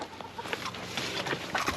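Several chickens cluck softly on a homestead pasture, with overlapping short clucks and bursts scattered over a low outdoor background, fairly close by.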